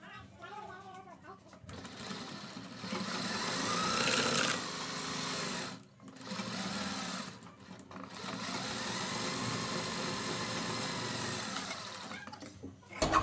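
A sewing machine stitches buckram onto fabric for a neckline, its steady motor whir running in long close passages broken by brief stops.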